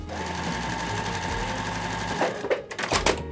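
A sewing machine stitches quilt block pieces in a continuous, close whirring hum that ends after about two seconds, followed by a few brief clicks and fabric handling noises.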